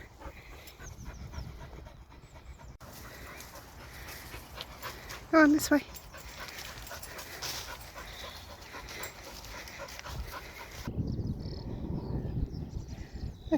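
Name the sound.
spaniel dog panting on a footpath walk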